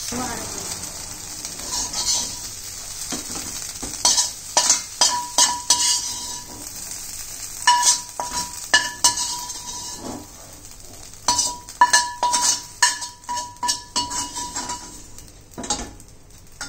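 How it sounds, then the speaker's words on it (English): Fried crispy okra being moved from a pan into another dish, with repeated scraping and clinking of a utensil against metal in bursts, a faint sizzle underneath. "Now I'll transfer into another pan, another dish."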